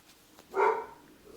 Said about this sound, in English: Sorry about my dogs barking.